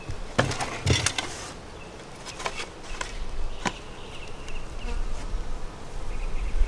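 Honeybees drone steadily and close during a hive inspection of an 8-frame hive, with sharp wooden knocks and scrapes of frames and tools popping through the buzz, no talking.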